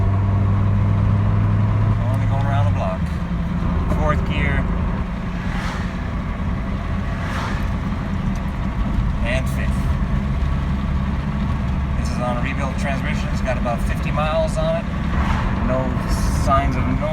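A Saab 900 Commemorative Edition cruising in fourth gear on a cold engine around a neighborhood block, giving a steady low engine drone with road noise beneath ongoing talk from the driver.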